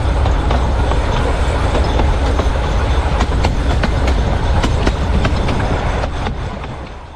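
The 110-year-old Bilimora–Waghai heritage train rolls along at about 40–50 km/h with a loud, close rumble and a steady clickety-clack of wheels over rail joints. The sound eases slightly as it fades toward the end.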